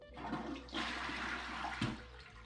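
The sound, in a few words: water filling a toilet bowl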